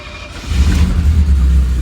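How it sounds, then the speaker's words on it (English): A Mercedes R107 engine, started after ten years without driving, catches and revs, a loud close low rumble that swells and holds at a steady elevated idle. "let's see what happens now when we start this car up. I'm hoping it will rev normally"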